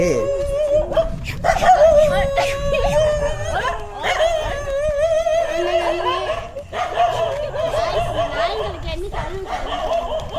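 Dog yipping, barking and whimpering in high, wavering cries that run continuously and close, with people talking excitedly over it.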